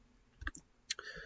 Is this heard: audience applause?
no